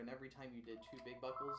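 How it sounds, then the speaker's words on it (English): A telephone rings in the background during a live toy unboxing, faint and partly buried under continuous talking. "that's a phone."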